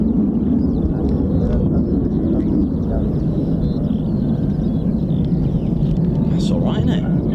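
A flight of four F-35B stealth fighter jets passes over, a steady, loud broadband roar that holds for the whole stretch with people talking underneath.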